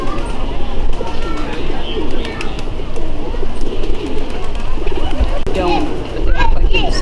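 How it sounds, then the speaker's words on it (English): Pigeons cooing in a park in Old San Juan, soft repeated coos amid outdoor bustle and voices of people talking nearby. "there were tons of pigeons in this park"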